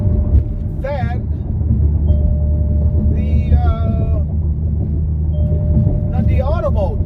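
Dodge Hellcat engine running in eco mode, a steady low rumble and hum throughout as the car drives and shifts, with someone talking over it at several points.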